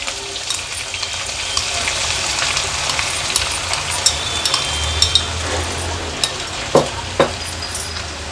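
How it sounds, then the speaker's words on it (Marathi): Tomato and crushed ginger-garlic fry in a mustard and cumin seed tempering, giving a steady close sizzle with stirring, a few louder sharp crackles near the end. "आलं लसूण क्रश जो चेचून घेतलाय टोमॅटो ॲड करूया"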